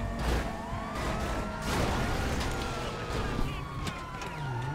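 A police car siren in the video game GTA V Online wails in rising and falling sweeps amid crashes and other game noise, with some talk over it.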